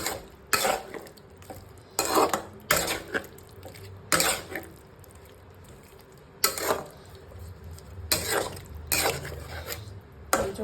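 Fried potatoes being stirred into a jackfruit curry in a pan, with repeated spatula scrapes and clinks against the metal at uneven intervals over a low simmering background.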